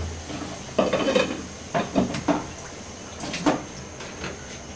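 Lid set over a cooking pan of rui fish curry in a home kitchen, giving a few light knocks and clatters close by, with a faint background hiss.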